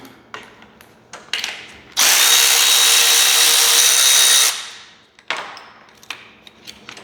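A power tool whirs loudly and steadily for a couple of seconds while work is done on a Chevy Silverado 4x4 engine during an engine swap, framed by scattered clicks, clanks and handling noises close by.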